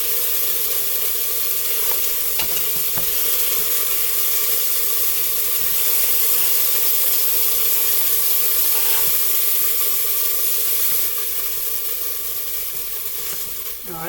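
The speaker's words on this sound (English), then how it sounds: "And I'm going to turn it down and put in my celery." Celery sizzles steadily in leftover chicken grease in a single pot, a continuous close, bright frying hiss with occasional soft stirring clicks and no voices.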